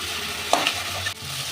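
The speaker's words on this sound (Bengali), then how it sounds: "এবার মাছের মাথাগুলোকে আমি একটু খুন্তি দিয়ে ভেঙে দেব।" Fish heads frying in a pan with spinach being broken up with a metal spatula, a steady close sizzle with a couple of sharp scraping strokes and knocks, no talk.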